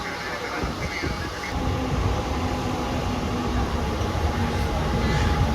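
A train pulls into a station with a steady, loud rolling rumble and broadband rail noise that swells slightly as it draws closer, with faint crowd murmur underneath.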